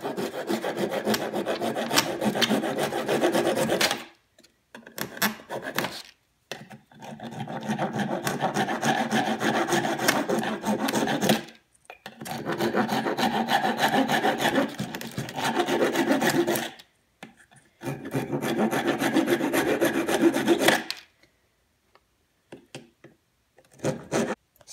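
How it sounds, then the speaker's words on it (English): A small hand saw trims wooden dowels on a walnut box in four long bouts of rapid back-and-forth rasping strokes, close and loud, separated by short silent pauses. "Now what we need to do is get a small little saw and trim off all the dowels."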